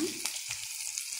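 Banana stem curry for a vegetarian thor dalna sautéing in a pan, a soft, steady sizzle with faint stirring scrapes, close and brief.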